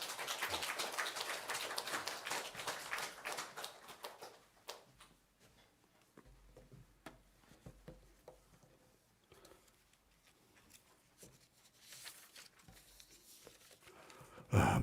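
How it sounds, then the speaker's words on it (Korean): A church congregation at a Sunday service at Pyeonggang Church in Cheongju claps in welcome, dense and loud for the first few seconds, then thinning and fading into a quiet room. "박수로 한번 환영하겠습니다"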